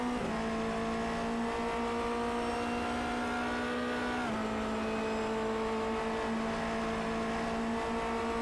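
Formula Renault 2.0 race cars at the Barcelona circuit, a loud sustained engine drone holding steady pitch, then dropping slightly around the midpoint as the cars pass, continuing steadily to the end with no talk.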